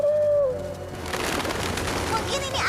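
Cartoon pigeons in Paris coo in soft, low, warbling calls, mixed with busy background sound and a short whistle-like tone.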